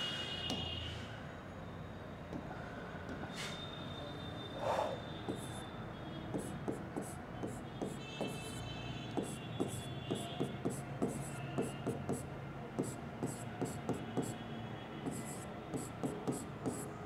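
A hand writes chemistry notes beginning with glucose, with quiet, quick scratchy strokes in irregular bursts that grow busier and more rhythmic over time, heard close and alone.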